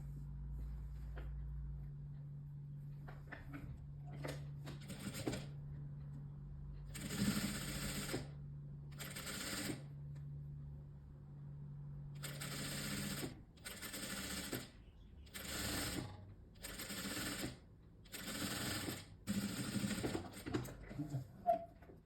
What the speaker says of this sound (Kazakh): Енді мына балағын ішіне бір қайырып тігіп шығамыз.